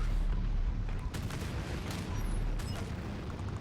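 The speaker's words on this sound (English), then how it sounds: "Torpedo away." A torpedo launched in the strategy game Anno 2205: a loud, sustained low rumble and rushing roar with scattered sharp bursts, steady throughout with no talking.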